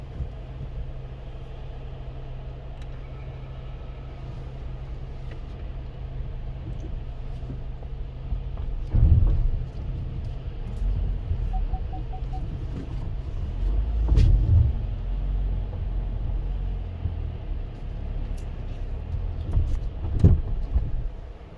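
Ford EcoSport engine labouring up a steep mountain road between Nako and Kaza in Spiti Valley, a steady low rumble with a few louder surges, no voices present.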